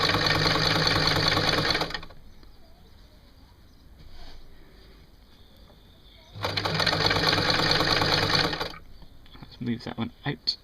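A sewing machine stitching a T-shirt alteration runs loudly in two bursts of rapid even stitching, with a quieter pause between and a voice heard faintly at the end.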